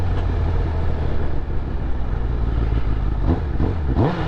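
A Honda CBR 1000RR sport motorcycle engine runs steadily and close, a low, even drone that holds throughout, with a brief shift in pitch near the end.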